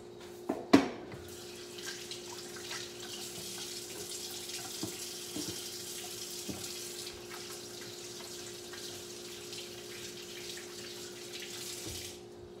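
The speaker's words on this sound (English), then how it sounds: "I'm just gonna wash my hands." Tap water runs steadily into a kitchen sink while hands are washed beneath it, a soft continuous splash at moderate distance with a clunk at the start and faint handling noises throughout.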